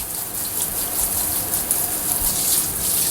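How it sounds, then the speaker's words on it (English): Steady rush of water from a tap splashing over a scrub brush being rinsed in a sink, a loud continuous hiss heard close-up with no talking. "let's get some water and rinse that off"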